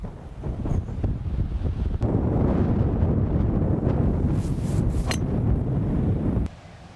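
Fierce wind roars across a golf course, buffeting the microphone in a continuous low rumble that swells after the first couple of seconds and drops away abruptly near the end.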